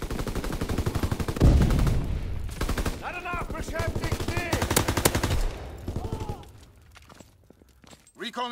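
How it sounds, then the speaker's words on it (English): Enemy strafing run in Call of Duty: WWII multiplayer, dense rapid bursts of close machine-gun fire with sharp cracks, mixed with game voices and calls, tapering off toward the end. "Enemy strafing run inbound."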